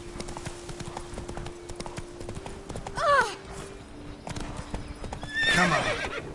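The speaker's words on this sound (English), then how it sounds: "Come on, Roach. Slow now. Whoa" A horse in The Witcher 3 video game trots with steady, close clip-clop hoofbeats and lets out two loud whinnies, the last one long and shrill.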